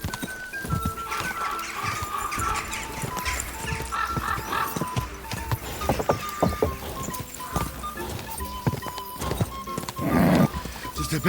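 A horse gallops in the video game Kingdom Come: Deliverance II with fast clip-clopping hooves and a whinny, mixed with game sounds and background music.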